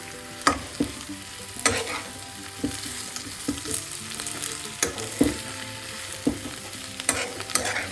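A spoon scrapes and stirs okra and potato stir-fry in a hot pan, with sharp periodic clanks over a steady low sizzle of frying.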